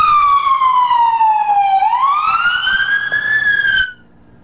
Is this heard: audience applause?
no